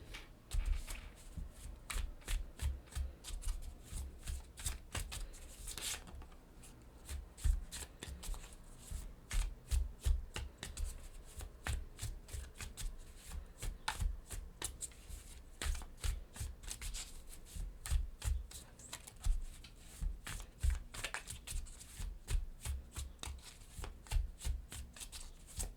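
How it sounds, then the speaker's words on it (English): Oracle cards being shuffled by hand produce soft, rapid riffling and flicking bursts in a steady repeating rhythm, quiet and close, with no voices. "I will be pulling a couple of oracle cards"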